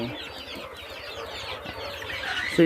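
Domestic chicks and black chicks peck at chick feed, keeping up a steady, busy chorus of high peeping and soft clucking close by, with a louder bump at the very end.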